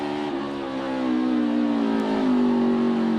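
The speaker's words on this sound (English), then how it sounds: "Listen to the engine here of AJ" A NASCAR Xfinity Series race car engine on track at the Pit Boss 250 drones loud and close, its steady pitch climbing gradually as it holds high revs alone.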